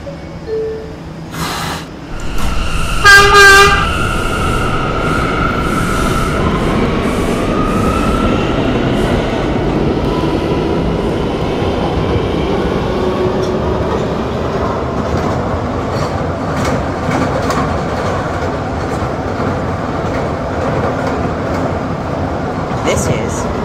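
A K line subway train rumbles steadily along the tracks, with door chimes and a 67th Street stop announcement at the start, then continuous close rolling noise and faint wheel squeal.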